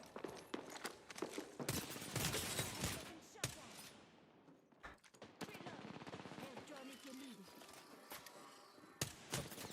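Video game gunfire, loud and close, with rapid automatic bursts and sharp single shots rattling almost continuously over nearly ten seconds, broken by brief pauses and a few louder cracks near the end.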